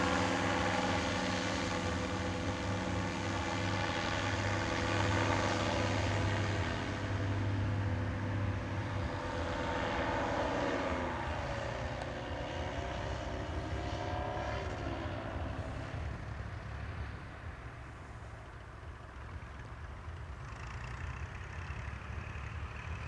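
Small propeller airplane engine running in flight near Strzelce, a steady loud drone with a low hum throughout that eases slightly toward the end.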